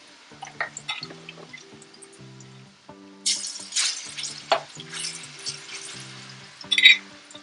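Food sizzles and crackles steadily in a pan while utensils stir and scrape, with a soft musical tune playing underneath.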